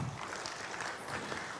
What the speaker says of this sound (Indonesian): Tepuk tangan untuk Polri.